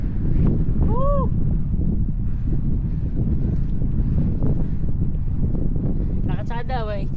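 Cold wind roars steadily against the microphone while riding a bike down Bourbon Street in New Orleans, a loud continuous buffeting with brief voices and whoops cutting through it.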